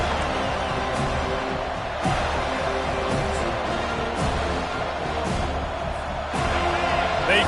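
Stadium crowd at an FSU versus Tigers college football game roars steadily throughout, a dense continuous wash of cheering with occasional louder swells, while a commentator talks over it.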